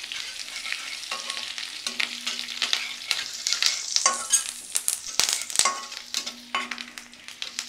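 Chicken 65 fries in hot oil in a pan, with torn curry leaves and coriander added, making a close, crackling sizzle broken by sharp clinks and scrapes of stirring.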